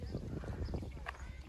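Purebred Arabian horses at the Tersk stud farm make faint, uneven hoof clops on the ground, quiet and somewhat distant beneath people talking nearby.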